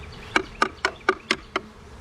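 Honey bees at a wooden hive with a hive beetle problem, buzzing close by in six short, evenly spaced pulses over a low background hum, with no voices.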